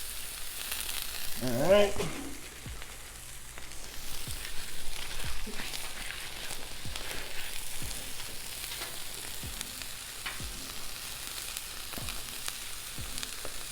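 Breakfast pizza ingredients frying on a Blackstone griddle, a steady close sizzle running throughout with scattered scraping taps from a spatula and a brief spoken remark near the start.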